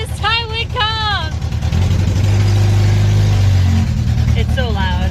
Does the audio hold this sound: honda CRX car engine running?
yes